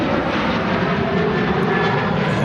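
Ryanair airliner at Manchester Airport on a winter day, a steady distant engine roar holding even and moderately loud throughout, with no voices.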